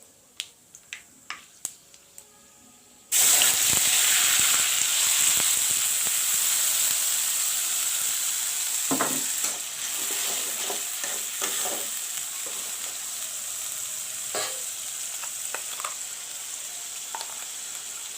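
Ginger, garlic and onion paste hitting hot oil with panch phoron in a pan for village-style cauliflower and potato curry: a few tapping clicks, then a sudden loud, sustained close sizzle with scattered stirring scrapes.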